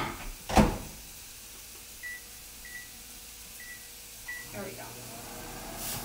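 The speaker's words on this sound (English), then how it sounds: "I'm going to put it in the microwave for about 30 seconds." A microwave oven heats chicken shawarma wraps, with a quiet running hum, several short beeps spaced a second or so apart, and knocks of the door or handling at the start and end.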